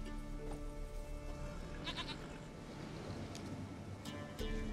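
A goat bleats in The Witcher 3 amid steady game ambience, with a short cluster of bleats near the middle and another brief one toward the end, fairly faint against the background.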